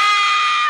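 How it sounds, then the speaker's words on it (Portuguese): A short, loud horror scream sound effect, a single piercing shriek held steady for under a second before cutting off abruptly. "Bota o grito de horror aí, cão."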